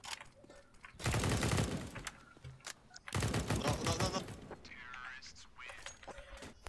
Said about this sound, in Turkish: Silah sesi duydum.